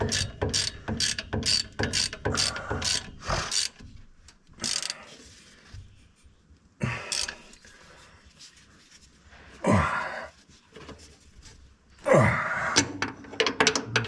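A ratchet clicks in quick rapid bursts while tightening bolts on a 1939 Chevrolet, close and fairly quiet, broken by pauses, thunks and shuffling between strokes.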